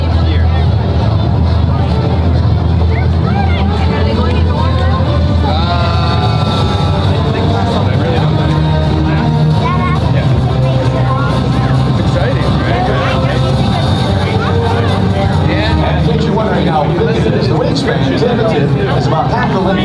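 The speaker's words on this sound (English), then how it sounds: "The aircraft is performing a series of steep bank turns to maneuver for a low speed pass" A C-17 Globemaster III military transport jet making a low speed pass over an air show airfield, its engines a steady loud roar throughout, with crowd chatter and voices mixed in.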